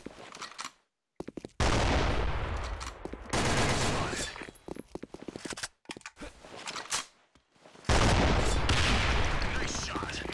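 Rapid bursts of video game gunfire crackle in loud, dense volleys separated by short silent gaps, with brief voice chatter from players mixed in during a clutch round of a competitive shooter match.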